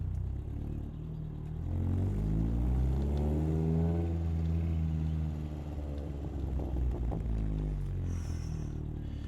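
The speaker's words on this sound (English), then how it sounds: "Okay, now I'm just gonna keep it in first. Let's get those burbles going." A Chev car engine held in first gear, revving up and down in a loud, close, continuous drone while the exhaust burbles and crackles, no talk.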